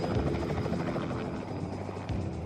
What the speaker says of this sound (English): the chopper flies high over the mountains